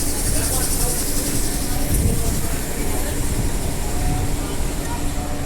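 A Perth Midland Line train runs with a steady rumbling roar and hiss heard from onboard, while a voice talks over it.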